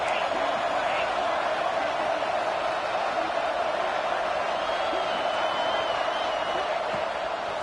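Broad, steady roar of a large stadium crowd at a college football game before a third down, continuous and evenly loud throughout with no distinct breaks.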